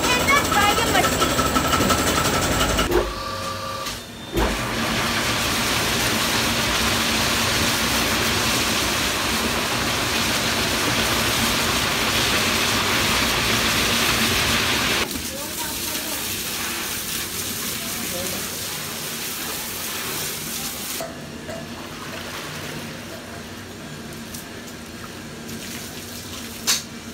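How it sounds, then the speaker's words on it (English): Washing and drying machines clean shredded single-use plastic waste at a recycling workshop. They give a steady, loud watery churn and rumble that runs unbroken, drops off sharply partway through, and then continues at a lower, rougher level. "This is the washing machine and this is the dryer machine."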